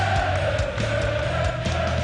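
A wrestling arena crowd hums a wrestler's entrance theme in unison, a sustained droning tone carried by many voices with a low rumble of crowd noise beneath, steady and loud throughout.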